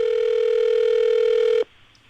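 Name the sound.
telephone ringing tone while calling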